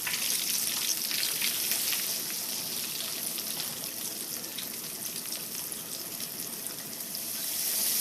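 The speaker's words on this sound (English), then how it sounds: "Fry them until brown." Lightly floured pork pieces fry in hot oil, a steady close sizzle with fine crackling bubbles that holds at moderate loudness and swells slightly toward the end, with no talking.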